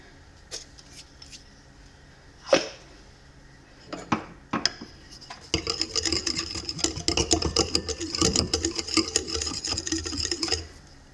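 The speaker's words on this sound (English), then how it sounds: "I'm just gonna do about a teaspoon and whisk that in." A whisk scrapes and clinks against a bowl as salt is stirred into a pretzel dough mixture, a few isolated taps first and then several seconds of quick, continuous rhythmic whisking close up.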